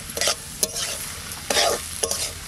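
Leafy greens with their stalks being stir-fried in a pan with potatoes, the spatula scraping in short bursts over a steady soft sizzle, close by and without talk.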